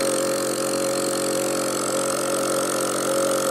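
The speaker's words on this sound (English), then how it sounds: "I'll turn on my compressor here." An electric compressor runs off a lithium battery setup, giving a steady, close mechanical hum with a constant tonal whine and no pauses, and no talking.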